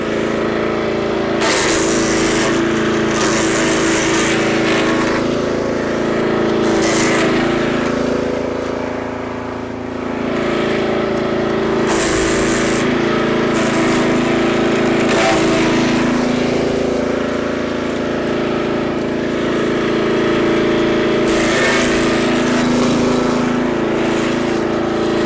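A Forest Master 6.5 hp petrol wood chipper shreds coniferous and buddleia branches, its engine droning loud and steady with bursts of harsher grinding as wood feeds through and a brief dip in load midway.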